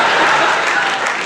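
Loud, dense audience applause at a comedy stage show, steady clapping filling the whole brief moment before tapering slightly at the end.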